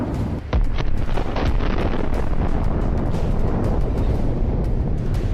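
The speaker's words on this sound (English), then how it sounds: "a precise hit to the APC's weak point, and we see a very large explosion" A loud, sustained roar of a large armoured personnel carrier explosion after a hit rumbles on with heavy low-end noise and crackle, with no talking.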